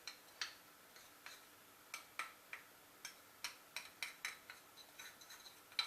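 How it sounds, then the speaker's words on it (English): A spoon stirs crepe batter in a bowl for banana crepes, giving a steady series of light, sharp clinks and taps against the bowl, close and fairly quiet, with no talking. "So we'll just stir this with my spoon."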